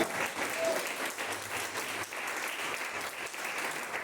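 A church congregation gives a steady round of applause during a gospel sermon, a dense wash of clapping heard from a moderate distance, continuous and even throughout.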